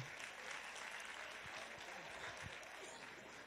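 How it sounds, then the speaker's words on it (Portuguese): A crowd at a summer course gathering gives a round of applause for a youth and rights group, a dense wash of clapping that stays even and fairly loud from start to finish. "Vamos dar uma salva de palmas para esse povo lindo."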